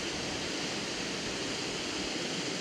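A waterfall beside a motorhome park-up on the Wild Atlantic Way roars in a steady, dense rush of white noise, loud and unbroken with no voices.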